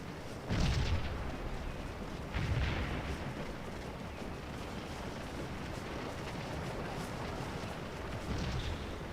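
Cannon artillery fire in the video game Scourge of War, a few deep booms spaced a couple of seconds apart rolling over a constant low battlefield rumble.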